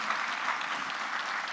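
An audience claps at a journalism award ceremony, giving a strong round of applause; a brief, even burst of many hands clapping together, dense and sustained from start to finish without any speech.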